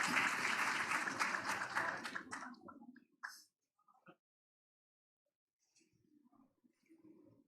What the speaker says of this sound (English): Please welcome them with a big round of applause for their performance.